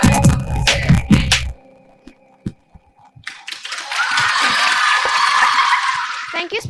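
After sung music fades, a few scattered claps sound, then an audience breaks into full, dense applause for Spanish learners' songs, loud and sustained to the end.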